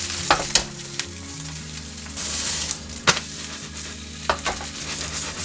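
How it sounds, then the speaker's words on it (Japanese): Komatsuna bread sizzles steadily in a frying pan while it browns, a soft continuous crackle broken by occasional sharper clicks and scrapes of stirring or turning. "水分が飛んだら表面がこんがりするまで焼きます。"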